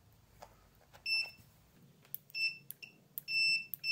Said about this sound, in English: A good working thermostat allows current to pass through and will beep when you put your leads on your two terminals